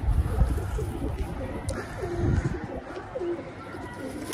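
A pigeon coos nearby in low, soft, rolling phrases repeated a few times over steady background noise and low rumble.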